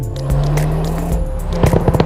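A 2021 Hyundai Kona N with a 2-liter turbocharged four-cylinder GDI engine, dual-clutch gearbox and front-wheel drive, gives a steady close engine drone that rises, then ends in a burst of rapid crackling pops near the finish.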